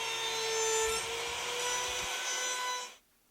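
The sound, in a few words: small router with roundover bit rounding wood notches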